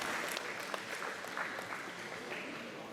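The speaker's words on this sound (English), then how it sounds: "Hearing some applause as one of the other championship matches, I believe it was the Q's match, wrapped up." Applause rises from a nearby table as another match wraps up at a crokinole world championship, moderately distant and fairly quiet, sustained as a soft, continuous patter of many hands.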